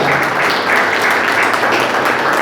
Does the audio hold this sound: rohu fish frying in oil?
no